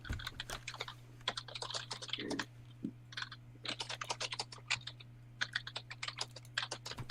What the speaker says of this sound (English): Somebody types 100 words a minute.